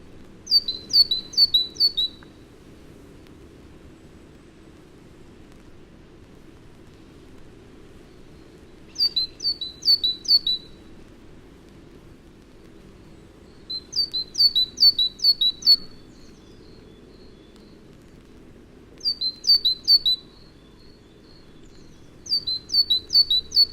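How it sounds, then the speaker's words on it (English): A great tit sings in short bursts of repeated high two-note phrases in a New Forest woodland glade in early October, pausing between songs, with a second great tit answering from nearby over quiet background hum. "a great tit, singing in a new forest glade in early October, sets off another one not far away"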